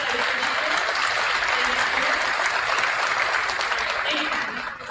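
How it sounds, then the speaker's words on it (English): A high-school banquet crowd applauds the DECA seniors as they stand, with steady, sustained clapping from many hands that fills the room and tapers slightly at the end. "we can all give them a round of applause"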